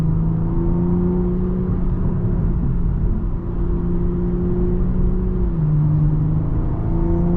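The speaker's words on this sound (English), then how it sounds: "There's this constant exhaust and engine noise that sounds fantastic." A 2023 BMW M340i accelerates hard, its engine and exhaust a steady loud drone heard from inside the cabin, pitch climbing through the gears with a brief dip at a shift.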